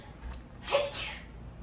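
A single quick sneeze, sharp and close, with a short breathy burst trailing after it in an otherwise quiet room.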